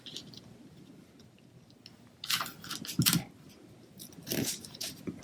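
Scissors snipping through a wrapped ribbon during a paper-crafting card project, a few short crisp cuts close by with light handling rustle between, no talking.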